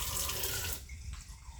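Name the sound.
water running from tap to water chickens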